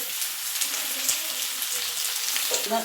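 Chopped onions frying in a pan for an egg roast, giving a steady, close, broadband sizzle with light crackles and occasional stirring scrapes throughout.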